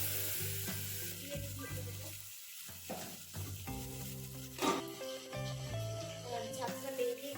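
Onion, ginger, garlic and chili fry in a pan for a Bihari-style fish curry, sizzling steadily with occasional stirring while music plays over it.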